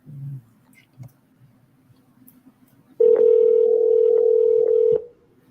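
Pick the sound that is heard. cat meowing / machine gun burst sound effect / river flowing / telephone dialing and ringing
telephone dialing and ringing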